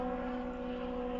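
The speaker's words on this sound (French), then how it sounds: "Ah non, c'est un hélico" A helicopter flying overhead outdoors gives a faint, steady droning hum with a tonal whine, heard alone for a brief moment.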